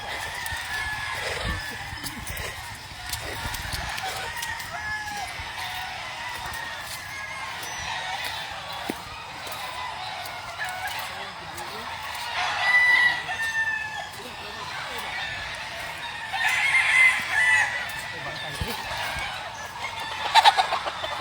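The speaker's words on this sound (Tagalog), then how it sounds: "may tao na kabuyang manok." Chickens and a rooster around a farmyard pen, with scattered clucking and a few crows rising at intervals over a quiet outdoor background, with voices talking now and then.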